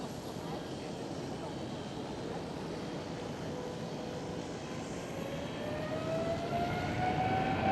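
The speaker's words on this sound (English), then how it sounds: "There goes Emirates with the old livery." An Emirates Boeing 777 departs Schiphol, its jet engines a broad, steady roar that swells gradually louder and rises in pitch, heard from a distance outdoors.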